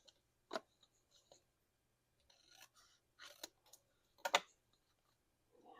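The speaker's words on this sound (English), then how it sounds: "And I'm going to cut it right here." Shears snip through a bonsai branch in a few separate crisp clicks and cuts, spaced out over otherwise quiet surroundings, close and fairly soft.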